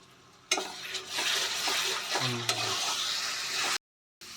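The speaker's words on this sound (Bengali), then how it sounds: "এবার আমি টমেটো পেস্টটা দিয়ে দেব টমেটো পেস্টটা দিয়ে আমি ভালো করে কষিয়ে নেব" Tomato paste being stir-fried with ginger and garlic in a pan, a steady close sizzle with utensil scraping and stirring, a brief clink partway, then a sudden cut to silence.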